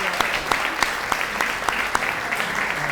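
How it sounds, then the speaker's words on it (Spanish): An audience applauds at a conference, a steady dense clatter of many hands clapping throughout, with a few sharper individual claps standing out. "aplauso para la Casa del Niño,"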